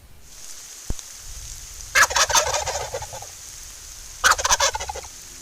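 A wild tom turkey gobbling in spring woods on a ridge point, two loud rattling gobbles a couple of seconds apart over faint background, no talking.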